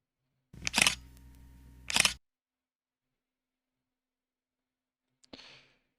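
Camera shutter sound effect from the CapCut PC editor: two sharp clicks about a second apart with a brief mechanical whirr between, then silence and one fainter click near the end.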